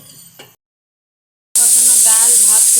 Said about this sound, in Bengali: এই জন্য শুটকিগুলো একটু ভালোভাবে আমি ভাজা নিচ্ছি